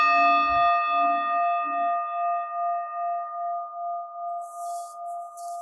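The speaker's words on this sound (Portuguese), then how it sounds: "Deixe que o som do sino" A meditation bell is struck once and rings out as a pure, sustained tone that fades slowly with a gentle wavering pulse, with a faint low thump at the strike and a soft hiss near the end.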